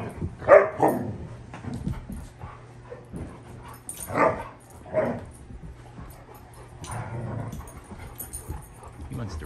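A 4.5-month-old Irish Setter puppy barks in a few sharp, close yaps with whimpers and panting between them, while a person talks nearby.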